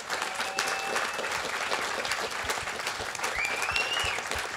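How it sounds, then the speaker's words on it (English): An audience at a forum on the future of jobs in an AI world claps for panelists, a steady burst of many hands clapping that fills the room at moderate volume, with a few faint whistles. "Can I please thank our wonderful panelists with a round of applause?"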